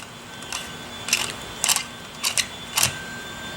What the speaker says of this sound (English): Turning it till it clicks.